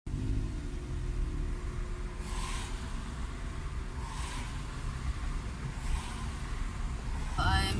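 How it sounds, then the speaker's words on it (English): Freeway traffic heard from inside a car stuck in a jam, a constant low cabin rumble with a few faint passing whooshes and a short sound at the end. "I'm still stuck in traffic."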